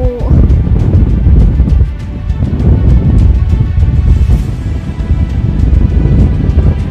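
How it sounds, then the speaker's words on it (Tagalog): Loud, gusty wind buffets the microphone in heavy low rumbles at a high lookout, steady throughout, with faint background sounds underneath. "ang lakas ng hangin parang lilipa rin ako"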